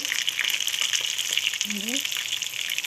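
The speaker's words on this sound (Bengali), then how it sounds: "পেঁয়াজগুলো আমি দিয়ে দিচ্ছি তেলের মধ্যে।" Lentil and onion fritters (piyaju) fry in a shallow layer of oil with a steady, close crackling sizzle that runs throughout, and a brief voice sounds near the end.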